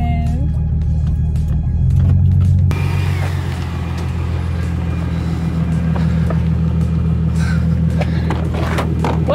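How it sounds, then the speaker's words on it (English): An Infiniti Q50 driving on the road, a steady close engine rumble with a brief rise in revs early on as paddle shifters are worked, cabin noise throughout. "first day out driving paddle shifters in the Q50"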